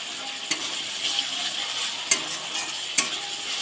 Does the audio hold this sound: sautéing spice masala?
yes